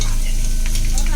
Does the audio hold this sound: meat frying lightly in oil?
yes